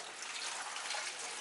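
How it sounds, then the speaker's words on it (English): Water pours into a bag holding leftover pottery glaze with a soft, steady splash and trickle, close by and fairly quiet. "I'm going to take the remainder of my water,"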